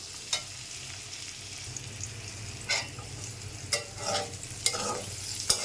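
Potatoes frying with turmeric in a pan over medium heat, a quiet steady sizzle with a handful of spaced scrapes and clinks of a spatula, close by and without speech.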